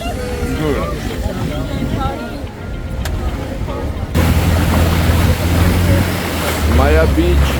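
A motorboat runs on the sea off Phi Phi Island, Thailand, its engine drone and rushing wind and water loud and close, with people talking over the noise.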